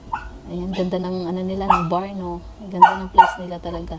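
A dog barks and yips a few times at a resort, intermittent sharp barks mixed in with a person talking over them.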